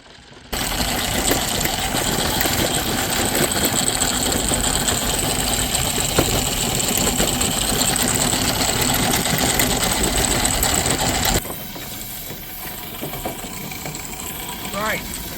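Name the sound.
Ransom's 1/6 scale model traction engine running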